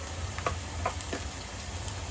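Ginger-garlic paste sizzling in hot oil as a tempering for a prawn pulao, a steady soft crackle with a few brief stirring clicks, fairly quiet and with no one talking.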